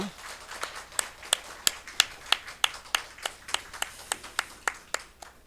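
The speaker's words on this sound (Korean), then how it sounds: "우리 박수로 축복을 하겠습니다." A church congregation at a Sunday morning service claps together in a slow, steady rhythm, about seventeen distinct sharp claps in even succession, fairly close and clear.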